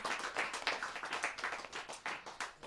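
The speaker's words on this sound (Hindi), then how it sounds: "बड़ा जोरदार ताली के साथ हम उनका स्वागत करें।" An audience at a Hindi poetry gathering claps steadily to welcome a poet, a continuous patter of many hands, moderately distant and soft, with no voices on top.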